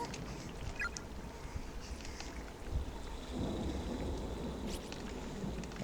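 Steady rain falls beside a pool in the horror video game Corpse Party, a dense continuous hiss with low rumbling swells and a few faint scattered ticks, no voices.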